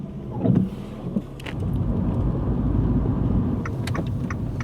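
A car rolls into the small Welsh town of Llangollen, giving a steady interior road and engine rumble. A few soft knocks and clicks come early, then the drive continues as a constant low drone.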